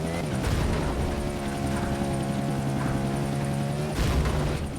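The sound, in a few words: helicopter flying in the video game FUEL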